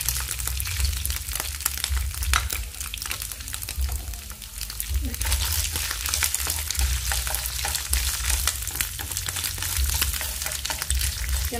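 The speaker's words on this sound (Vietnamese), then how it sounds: "Chảo dầu mình nó cũng đã nóng rồi nè các bạn. Giờ mình sẽ cho mì căng vô." Steady crackling and sizzling of wheat gluten frying in hot oil continues throughout, dense and close, with occasional stirring clinks.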